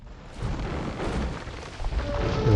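Cannon galleons fire in Age of Empires II: The Conquerors, a dense rumble of overlapping booms and blasts building in loudness over a couple of seconds.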